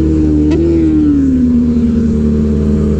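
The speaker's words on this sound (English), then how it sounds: "That's the advantage of blipper, man. You can just slow it down." A Kawasaki ZX-6R sport motorcycle's inline-four engine drones steadily up close, with a quick blipped rev as the quickshifter downshifts, then the pitch sinks smoothly as the bike slows.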